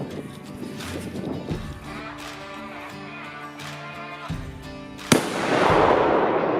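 A low hum and scattered clatter, then one sharp bang near the end as a firecracker filled with smoke gunpowder explodes, followed by a loud hissing rush.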